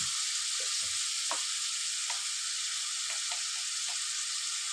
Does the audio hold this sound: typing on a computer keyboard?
no